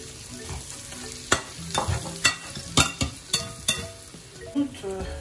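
Small fish and sorrel leaves fry in oil, crackling and sizzling up close while a utensil stirs them in a series of sharp, rhythmic scraping knocks against the pan.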